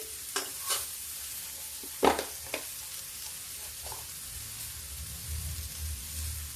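Cabbage and peas sabzi frying in a pan over a low gas flame, with a steady faint sizzle and a few clattering stirs of a spoon near the start.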